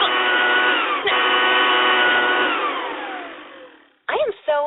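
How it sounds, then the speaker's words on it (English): A cordless leaf blower runs with a loud, steady high whine that slowly winds down over several seconds, followed by a brief burst of voice or sound effect as it cuts off. "Drown her out with a 200-mile-per-hour cordless leaf blower."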